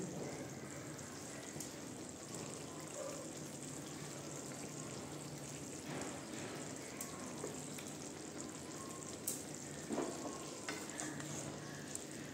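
Fried eggs being stirred into thick, reduced spice gravy in a pan, with a steady low sizzle and occasional soft scraping and clinks of the spoon, faint and continuous with no talking.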